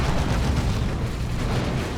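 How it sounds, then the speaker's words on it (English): Plasma cannon and lascannon shots slam into a Baneblade super-heavy tank in the Dawn of War 2 video game, a dense, continuous barrage of booming impacts and rumbling bursts that stays loud throughout with no voices. "Plasma cannon shots, las cannon shots, and Barb Strangler shots. All on the Baneblade."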